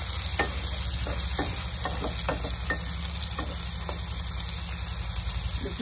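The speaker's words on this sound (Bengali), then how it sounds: "একটা কুচিয়ে রেখেছি টমেটো, সেটা অ্যাড করে দেবো। দিয়ে এটাকেও আমি ভালো করে ভেজে নেব।" Chopped tomato fries in a pan for a gandhara fish curry, giving a loud continuous sizzle with scattered stirring scrapes throughout; no voices.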